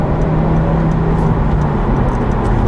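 A Honda Civic 1.5 VTEC Turbo petrol car accelerating hard onto a motorway, heard from inside as a loud, steady roar of engine and road noise with no talking.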